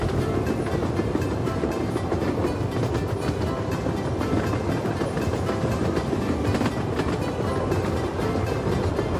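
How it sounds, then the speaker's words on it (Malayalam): The Mokra Gora heritage train in Serbia rolls steadily through pine forest toward a tunnel, its loud continuous rumble broken by rhythmic clickety-clack of the wheels on the rails, heard from on board. "ട്രെയിൻ ഒരു ടണലിൻ്റെ ഉള്ളിലേക്ക് കയറാൻ പോവാണ് കേട്ടോ."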